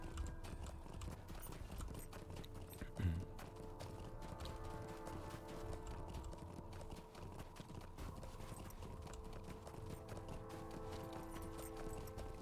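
Steady clip-clop of horse hooves while riding in the Lord of the Rings Online video game, a continuous even rhythm under a droning musical background, moderately quiet throughout.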